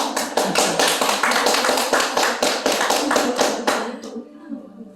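Applause from a seated audience at an indoor tea and culture salon, a dense patter of many hands clapping close by for about four seconds before cutting off abruptly.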